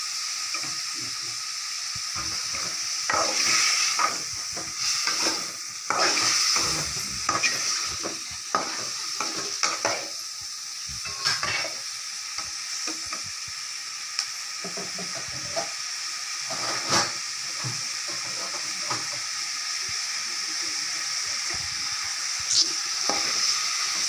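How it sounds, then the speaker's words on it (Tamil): Steady sizzling of tomatoes sautéing in a pan, with repeated scraping and stirring strokes throughout, close and moderately loud. "நல்லா வந்து பச்சை வாசனை போற வரைக்கும் நல்லா வதக்குவேன்"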